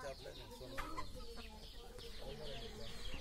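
Country chickens on a native chicken farm cluck and chatter in a busy, overlapping flock, with several birds close by and a steady murmur of others behind.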